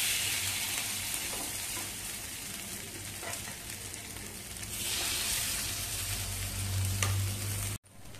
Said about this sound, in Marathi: आता आपण आप्पे घालूया.